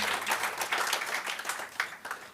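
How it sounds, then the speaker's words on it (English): Audience applauding three presenters at a university incubator consortium roundtable, a steady wash of many hands clapping at moderate distance, with a few sharper claps standing out near the end. "Please applause to our 3 presenters"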